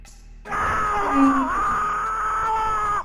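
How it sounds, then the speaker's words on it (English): A drawn-out, tonal scream from the video game Shenmue, loud and sustained for about two and a half seconds after a quiet start, wavering slightly in pitch before cutting off. "I love the scream."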